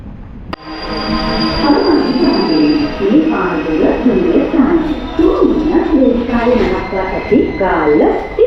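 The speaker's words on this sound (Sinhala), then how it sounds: "දුම්රිය දැන් පිටපනවා ඇත" A passenger train on the Galle to Maradana line pulls out of the station, a loud rumbling and squealing mix with screeching wheel tones and a sharp start, continuing steadily throughout.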